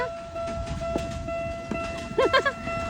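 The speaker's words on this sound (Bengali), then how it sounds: "ওই যে ট্রেন চলে আসতেছে" A small train rumbles along with faint clacks, then gives a few short whistle toots near the end; faint voices in the background.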